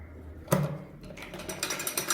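A sewing machine stitches around a shirt neckline, with a sharp mechanical clack near the start followed by a busy, rattling run of stitching that stays close and steady.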